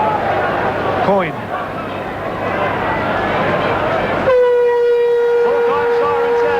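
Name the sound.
full-time siren at rugby league match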